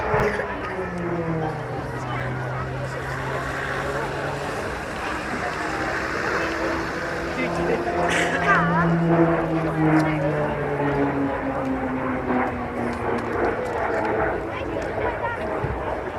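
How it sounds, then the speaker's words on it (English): A heavily modified Embraer EMB 312 training aircraft, brought up to RAF standards, flies at an air show, its propeller drone rising and falling in pitch as it passes, steady and fairly loud under a commentator's talk. "aircraft, of course, is a very much modified version of the Brazilian Embraer EMB 312, brought up to RAF standards."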